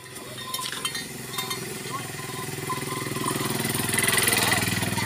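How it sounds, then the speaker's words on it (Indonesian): A motorcycle engine drones nearby on a slippery, rain-wet road and grows louder as it approaches, with a steady low rumble and some background voices. "Ada motor."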